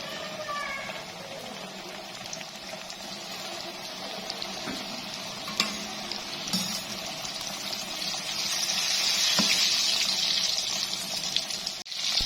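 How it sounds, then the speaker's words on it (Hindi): Chicken wings go into hot oil in a kadai and sizzle and bubble continuously, with a few sharp crackles and pops; the frying grows louder toward the end. "कढ़ाई में ऑयल डाल दिया हमने और हमारा ऑयल गर्म भी हो गया। अब हम इसमें शामिल करेंगे अपने चिकन विंग्स।"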